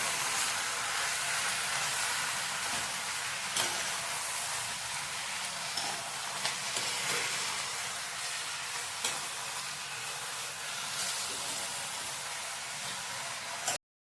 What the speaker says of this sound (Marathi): आता हा पालक आपण चांगला तेलात 5 मिनिटं वाफेवरती शिजवून घ्यायचा आहे